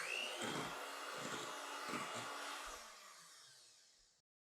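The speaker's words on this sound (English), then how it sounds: "we're gonna whisk 1 cup of heavy cream in that bowl" An electric mixer whisks a cup of heavy cream in a bowl, giving a steady loud whirring drone that runs for about four seconds and then cuts off abruptly.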